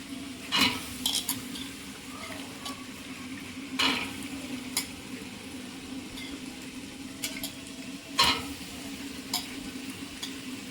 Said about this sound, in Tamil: அனைத்தையும் சேர்த்து கிளறி கொண்டே இருக்கோம்